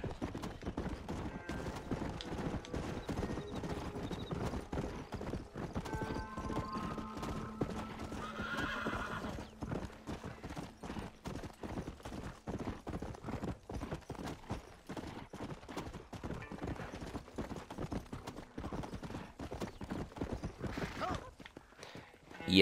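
Horse hooves clip-clop in steady, rapid rhythm as a horse gallops in the Western game Red Dead Redemption, with a whinny partway through, the hoofbeats continuous and moderately loud over a faint musical backdrop.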